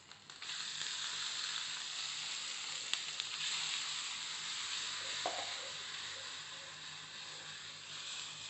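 Olive oil heating in a pan for chili paste sizzles with a steady, bright hiss throughout, with a few faint clicks and knocks, and no voices.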